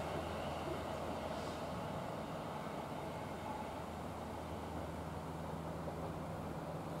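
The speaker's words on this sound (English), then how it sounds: "there goes number 4 car train" A steady low rumble of a South Western Railway Class 450 four-car electric train departing Brockenhurst station, constant and moderately distant, with no voices.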